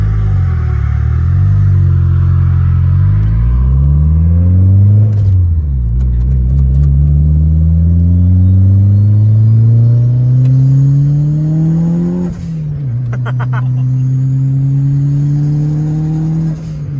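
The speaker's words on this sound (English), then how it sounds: "We decided to go three deep in his Talon as he took us for a ride" A 1998 Eagle Talon TSi turbo, running poorly and carrying three people, accelerates hard through the gears from inside the cabin, its loud engine note climbing steadily, dropping at each shift and then rising again.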